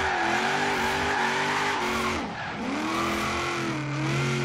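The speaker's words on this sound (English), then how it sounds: "You really have to redline the shit out of it in order to get the back tires to spin." Supercharged HSV GTS Maloo ute in Forza Horizon 3 revving hard near redline with wheelspin, a loud sustained engine roar with a supercharger whine that dips briefly and climbs again, with tire squeal mixed in.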